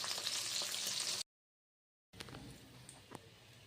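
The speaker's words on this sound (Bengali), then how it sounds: "বক ফুলের বড়াগুলো ভেজে নিচ্ছি।" Bok flower fritters in a gram flour and rice flour batter frying in hot oil, a steady close hiss of sizzling that drops out for a moment and then resumes, no voices.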